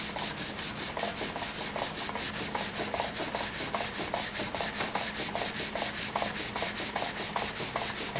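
Wet sanding the finish on a stave shell drum, steady back-and-forth rubbing strokes in an even, quick rhythm, close and consistent throughout, with no voices.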